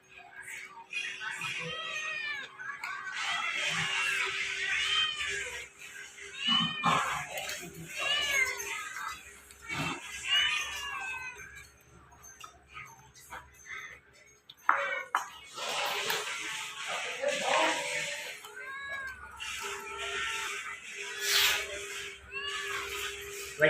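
A cat meows repeatedly, close by and fairly loud, its cries rising and falling across the whole stretch, mixed with people talking nearby and some clattering in a busy household setting.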